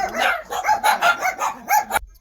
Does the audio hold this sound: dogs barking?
yes